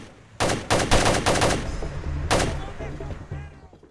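An AK-47-style rifle fires in single-shot mode in Ghost Recon Advanced Warfighter 2: five loud, sharp shots in quick succession, then one more after a pause, each with a short echoing tail.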